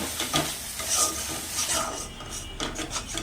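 Vegetable peel paste being stirred and dry-fried in a pan, with a soft continuous scraping and low sizzle, steady strokes repeating close by and no talking.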